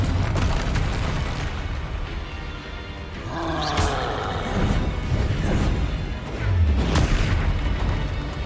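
Confringo blasting spell in Hogwarts Legacy, a dense roaring run of spell blasts and deep booming explosions, loud and continuous with several sharper bursts.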